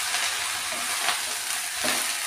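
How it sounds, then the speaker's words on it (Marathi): Drumstick leaves sauté in a pan, a dense, even sizzle close up with a couple of soft stirring swishes and no voices. "व्यवस्थित परतून घेऊया।"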